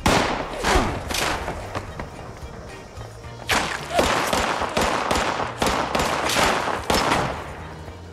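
Gunfire in the video game Fallout 76: loud, sharp shots in irregular clusters, a burst at the start, then a lull, then a series of spaced cracks with echoing tails.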